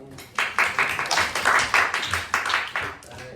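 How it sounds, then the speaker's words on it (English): A small classroom group gives a student a light golf clap, a run of soft, fairly even claps pattering along for a few seconds at low volume. "Give her a golf clap"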